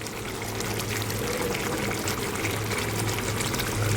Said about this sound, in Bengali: এবার আমি এটা ঢেলে নেব।